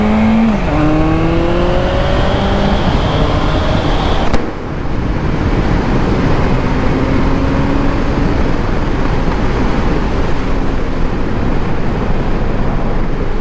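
A 2013 Honda CB1100 motorcycle accelerates up close, its engine note climbing in steady pitch steps for a few seconds before a shift, after which wind rush and road roar dominate with the engine faint beneath.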